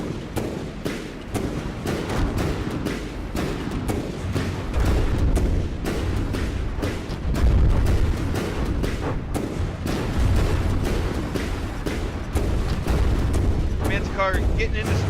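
Repeated booming cannon volleys from tanks in the vehicle-building game From The Depths thump out at a steady clip over a continuous rumbling battle noise, with a voice commentating throughout.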